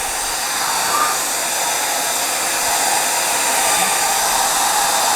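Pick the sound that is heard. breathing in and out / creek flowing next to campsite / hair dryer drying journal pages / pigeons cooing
hair dryer drying journal pages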